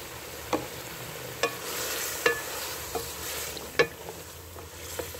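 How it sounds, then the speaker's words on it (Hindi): Yogurt going into a pot of tender cooked mutton for pulao, with a steady sizzle and a series of sharp spoon scrapes and knocks against the pot at irregular intervals, close and fairly quiet. "और ये 3-4 चम्मच दही है वो डाल देने लगी।"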